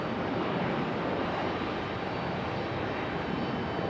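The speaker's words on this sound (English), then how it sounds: "we got the CRJ departing now" CRJ regional jet departing Raleigh Durham International Airport, a steady broadband engine roar at moderate distance, continuous and even across the whole stretch.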